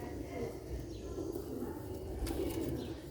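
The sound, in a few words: pigeons cooing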